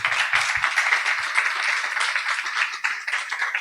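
Audience applause for the speakers at a science-and-beer talk event, a dense, steady wash of many hands clapping close by, filling the room evenly with no speech over it.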